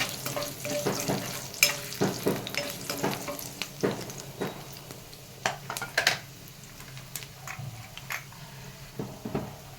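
Garlic sizzling and frying in a pan for a village-style ridge gourd chutney, a steady crackle broken by frequent sharp clinks and scrapes of a utensil stirring against the pan, close by with no talk.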